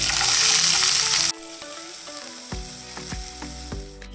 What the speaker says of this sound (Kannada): ಈರುಳ್ಳಿ ಫ್ರೈ ಆಗೋದ್ರೊಳಗೆ